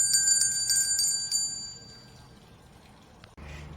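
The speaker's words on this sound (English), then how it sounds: "We'll be using a bell to elicit this response." Several quick, bright rings of a bell used in a Pavlov conditioning demonstration with dogs, chiming close and clear, then fading away into quiet background hiss.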